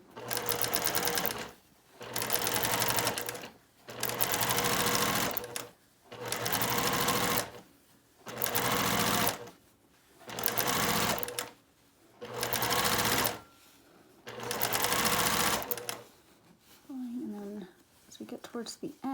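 A sewing machine stitches quilt record block pieces in eight loud, steady bursts of about a second and a half each, separated by short pauses, with a brief voice at the end.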